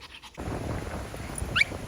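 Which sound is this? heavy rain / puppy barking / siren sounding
puppy barking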